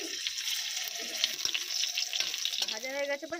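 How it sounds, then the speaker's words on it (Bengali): Green chili, dry chili and cumin tempered in hot oil for lentils give a steady close sizzle and crackle, with a voice talking briefly near the end. "কাঁচা লঙ্কা, শুকনো লঙ্কা এবং জিরের ফোড়ন ডালের মধ্যে দিয়ে দেবো।"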